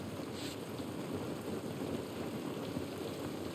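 Steady rain in The Last of Us Part 1, a dense, continuous hiss of falling drops pattering on surfaces, even and unbroken throughout with no talk.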